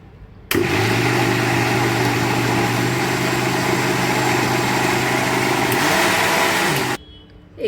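A mixer grinder blends raw mango pulp without added water, its motor starting abruptly into a loud, steady whine that runs unbroken for about six seconds before cutting off sharply, close and alone.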